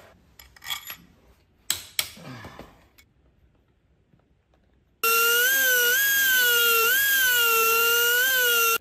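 Motorcycle engine sprocket from a Chunfeng (CFMoto) 250SR being ground for a racing build: after a few scattered clatters, a loud, steady high-pitched grinding whine starts abruptly and holds continuously, close and alone.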